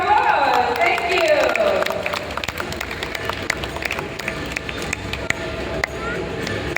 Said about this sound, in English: Let's give Zina a big round of applause